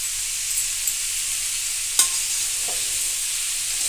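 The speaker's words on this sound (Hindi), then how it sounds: "पहले इन्हीं सब चीज़ों के साथ इन्हें भूनना है। प्याज, अदरक, लहसुन, हल्दी और मिर्च के साथ" Cauliflower fries with onion, ginger, garlic, turmeric and chilli for gobi paratha, making a continuous hissing sizzle. A couple of faint utensil taps can be heard during stirring, and no one speaks.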